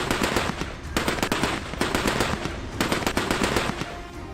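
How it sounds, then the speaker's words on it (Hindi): Sustained bursts of machine gun fire in news footage of a full-fledged commando operation and surgical strike, rapid rattling volleys in repeated loud bursts with brief gaps between them. "मशीन गन से बारूद बरसा है"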